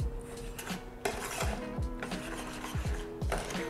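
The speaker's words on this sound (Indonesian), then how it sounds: "ini kita akan aduk sampai rata" Pie batter being stirred until smooth in a bowl, repeated close scraping and clinking of a utensil against the bowl in an uneven rhythm, no talking.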